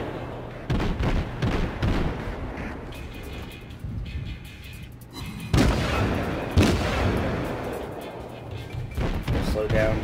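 Naval guns boom repeatedly in a World of Warships battle, heavy salvos cracking out loudly at intervals over a continuous rumble of game sound, with someone talking throughout.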